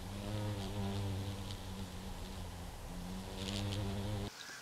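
A bee buzz pollinating a flower, a steady, close, pitched buzzing drone that holds for over four seconds before cutting off sharply, faint overall with no voices.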